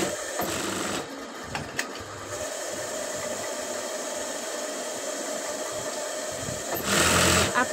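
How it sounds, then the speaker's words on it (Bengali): A sewing machine stitches the side seam of a kameez, its even motorized hum running close and steady through most of the stretch, with short pauses and a louder burst near the end. "এই মার্ক অনুযায়ী আমি সেলাই করে দেব"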